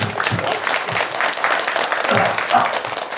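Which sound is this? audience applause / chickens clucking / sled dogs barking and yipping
audience applause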